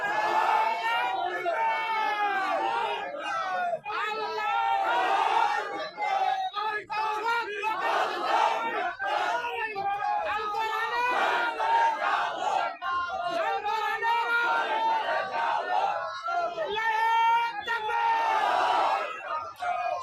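A large crowd at an outdoor Islamic waz gathering in Bangladesh shouts takbir in loud, repeated, chant-like unison, the massed voices rising and falling in waves that fill the whole stretch.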